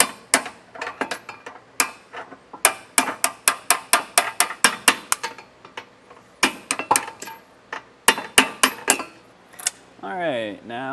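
Sharp metallic taps of a punch or pry bar driving a bolt past the heat shield while a B&W trailer hitch receiver goes onto a 2023 Hyundai Palisade, quick bursts of close clinks with pauses, ending in a short whirring tool sound.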